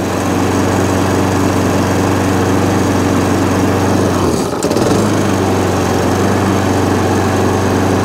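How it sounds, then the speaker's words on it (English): A small push lawn mower with a Tecumseh engine runs loud and close, holding a steady buzzing drone with one brief dip in the middle before recovering to the same even pitch. "Doing everything it should do little push mower, got it for nothing, new pull board,"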